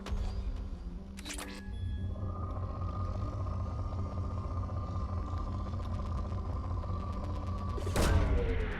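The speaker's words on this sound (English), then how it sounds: "Launching probe." Probe launch in Mass Effect 2: a sharp burst, then a long steady electronic hum over a low rumble, ending in a second sharp whooshing burst; loud and close, with no talking.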